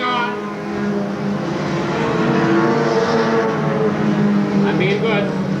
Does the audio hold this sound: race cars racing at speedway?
yes